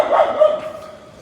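A dog out on a walk gives a short bark or yip, close and fairly loud, with a steady ringing tone that fades over about a second.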